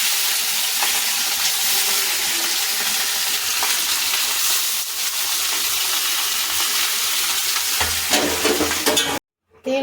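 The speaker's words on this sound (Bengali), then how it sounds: "ফুলকপি আলু ভাজা হবে আজকে" Cauliflower and potato pieces frying in hot oil with asafoetida tempering, a loud dense continuous sizzle heard up close, with occasional stirring scrapes before a brief cut near the end.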